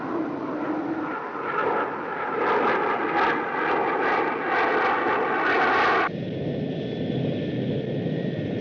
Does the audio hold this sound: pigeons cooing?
no